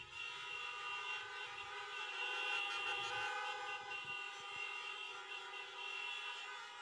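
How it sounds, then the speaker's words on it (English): Many car horns honking together at a drive-through class of 2020 graduation for Central Memorial High School, a sustained, overlapping chorus of toots that carries on for several seconds. "let's give one more round of honks to this class of 2020"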